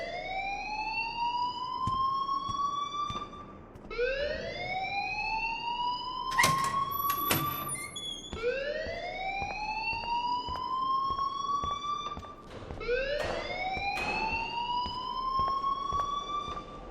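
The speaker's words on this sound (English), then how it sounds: "please turn off that alarm since that's your job." An alarm rings in the video game Life Is Strange, a steady rising wail that sweeps upward again and again at a moderate level, with no voices over it.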